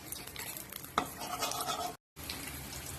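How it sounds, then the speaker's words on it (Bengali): Eggs fry in spattering oil, a faint crackling sizzle with a stirring scrape, briefly cut to silence before the hiss resumes. "এরকম তুলে নিচ্ছি তেল ছিটে ছিটে, ফটফট করে ভাজছি।"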